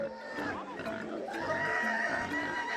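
Pigs in the Mount Hagen highlands of Papua New Guinea, oinking and squealing up close in rising and falling calls, with people talking in the background.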